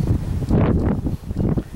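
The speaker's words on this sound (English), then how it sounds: "never seen it so windy in my entire life." Strong gusts in a vegetable garden with staked tomato plants buffet the microphone in loud, low rumbling bursts that rise and fall unevenly.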